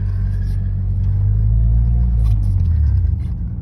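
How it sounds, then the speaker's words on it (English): A manual car pulls away as the clutch is released, its engine giving a loud, steady low rumble that builds slightly, heard up close with no talking. "you let go of the clutch and you give it a little bit of gas. And you'll begin to move, the car will begin to move."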